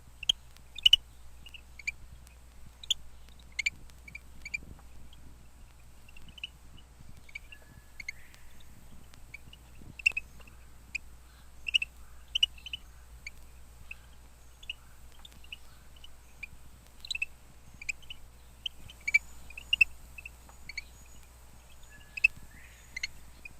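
A small Eleutherodactylus rickardii frog chirps in a Miami garden at night, short high clicks and chirps in scattered bursts over a quiet low hum, with a faint bobwhite somewhere in the background.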